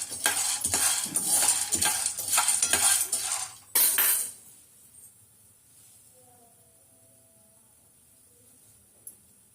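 Peanuts dry-roasting in a pan for homemade masala podi, heard as a dense run of scraping, rattling stirs against the metal for about four seconds, then the stirring stops and only a faint quiet hiss is left.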